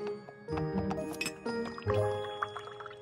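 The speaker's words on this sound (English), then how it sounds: "A teapot that just pours tea?" A teapot from a classic tea-for-two set pours tea in trickling, dripping splashes, with light clinks of china. The pour is heard close and alone.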